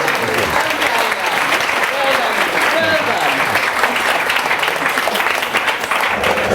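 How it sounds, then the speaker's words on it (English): Audience applause at a nutrition talk, a dense, loud, steady roar of many hands clapping that carries without a break from start to finish, with some voices mixed into the clapping. "Big hand clap."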